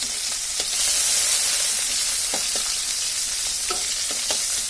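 Chopped onions hit hot oil in a pan and fry steadily, a close, continuous sizzle with a few stirring scrapes while the onions cook for kochur chora.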